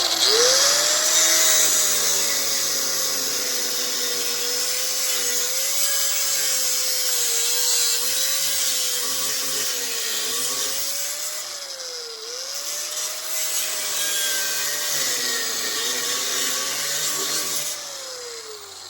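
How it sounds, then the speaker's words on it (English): A cutoff wheel grinds through a radiator area in one continuous high whine, the pitch sagging and recovering as the blade loads up, loud and close with no talk. "it's gonna be a lot cleaner to use the cutoff wheel"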